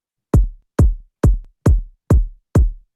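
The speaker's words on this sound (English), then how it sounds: "obviously laid down the kick drum here, which you can see, which is a sample from a sample pack" Kick drum sample from a sample pack plays six evenly spaced hits, each a loud, deep, punchy thump with a short decaying boom, alone with no other sounds.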